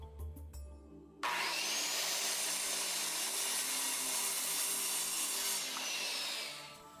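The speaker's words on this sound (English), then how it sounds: "So what I'm going to do is cut with my circular saw" A circular saw cutting MDF: a few faint knocks, then the blade spins up into a loud, sustained whining buzz through the cut, holding steady for several seconds before it begins to wind down.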